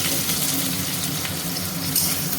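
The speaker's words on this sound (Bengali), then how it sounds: "এবার আলুটাকে ভেজে নেওয়া হচ্ছে" Potatoes frying in hot oil in a home kitchen give a steady, close sizzle and bubbling hiss that carries evenly throughout without a pause.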